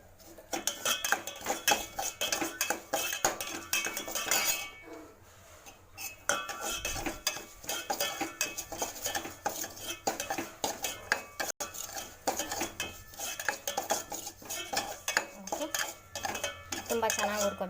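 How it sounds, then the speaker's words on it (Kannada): Semolina (rava) roasting in a pan, stirred continuously with a metal spoon that scrapes and clinks against the pan in quick, irregular strokes, close and fairly loud, with a brief pause midway. "ರವೆ ಚೆನ್ನಾಗಿ ಎಷ್ಟು ಸಾಧ್ಯ ಅಷ್ಟು ಚೆನ್ನಾಗಿ ಹುರ್ಕೋಬೇಕು"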